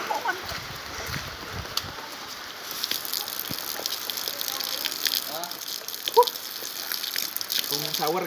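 Water gushes and hisses steadily from the spray nozzle of a homemade shower built from recycled materials, with faint voices and a few clanks in the background.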